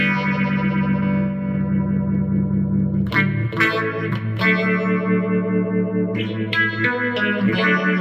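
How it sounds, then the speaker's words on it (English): Electric guitar played through a Roland Micro Cube amp with a phaser effect, sustained distorted chords sweeping and shimmering, then sharper strummed hits, loud and close with no talking. "That's a phaser, I would say."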